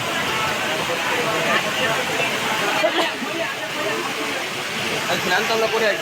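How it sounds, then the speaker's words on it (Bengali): Waterfall water pours continuously over five Shiva lingams at a hillside Panchalingeswar temple in Balasore, Odisha, a steady rushing wash of spray with faint voices and crowd murmur mixed in. "এই পাঁচটি শিবলিঙ্গর ওপরে অনবরত এই ঝর্নার জল বয়ে চলেছে"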